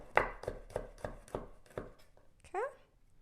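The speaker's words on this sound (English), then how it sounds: "I'm just going to chop it" Garlic cloves are chopped with a knife on a board: about seven crisp, evenly spaced knocks, close and clear, then a brief pause and a short vocal sound at the end.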